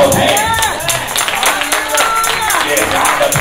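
A church congregation at a morning worship service claps along in rhythm, loud and close. Sharp repeated claps mix with singing voices.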